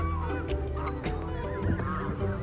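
Geese or ducks honking repeatedly in a noisy outdoor flock, several overlapping calls close by with steady background chatter of birds.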